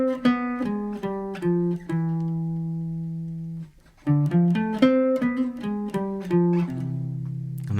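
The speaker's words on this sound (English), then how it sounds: "And that sounds more like a jazz line, and it's what you want to do with your arpeggios, connect them to the closest note." Jazz arpeggios over a 2-5-1 progression, each chord tone moving to the closest note: clear melodic notes rising and falling, a long held tone, a short pause, then another flowing run.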